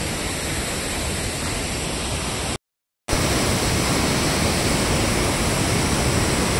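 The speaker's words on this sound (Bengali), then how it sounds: "প্রচুর ফোর্সে জল পড়ছে" A powerful waterfall in the Dooars forest region, pouring with great force from high up; a dense, loud, continuous roar close by, broken by a brief moment of silence, with no voices.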